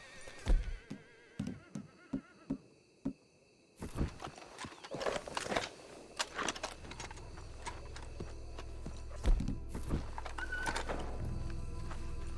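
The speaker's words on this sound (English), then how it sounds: "Let's hitch the horses up ahead." Horses in a video game snort and whinny amid scattered hoof clops, with a run of regular hoofbeats at first, then a louder busy stretch and a rumbling background toward the end.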